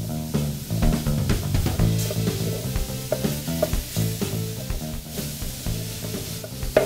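Ground meat for a bolognese sizzling and being stirred and broken apart in a pan in a restaurant kitchen, a steady frying crackle with repeated scraping strokes throughout, close and fairly loud, with no talk.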